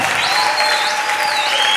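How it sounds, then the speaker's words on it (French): Loud, sustained clapping from guests at a church wedding ceremony, dense and even throughout, with faint whistles and cheers mixed in. "Applaudissez très très fort"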